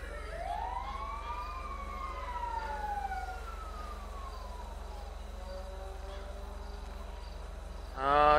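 An ambulance siren sweeps up and down at a distance in the LSPDFR police game, wailing tones rising and falling steadily against a quiet background hum, with a brief louder burst at the very end.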